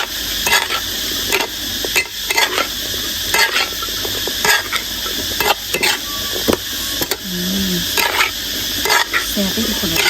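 Shrimp paste frying and being stirred in a pan, with a steady loud sizzle broken by repeated scraping stir strokes and light clinks of a utensil against the pan, and faint voices in the background.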